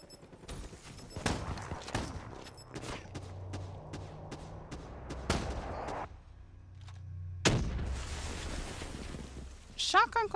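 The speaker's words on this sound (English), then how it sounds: "Shotgun going on." Shotgun fire in a video game rings out as repeated sharp blasts at irregular intervals, some in quick clusters, over low rumbling in-game ambience.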